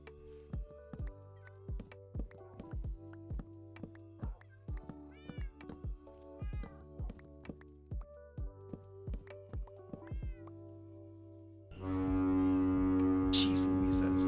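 A loud, sustained foghorn blast in a harbour sets in near the end and drowns out a run of short, high tonal calls like meows that come before it.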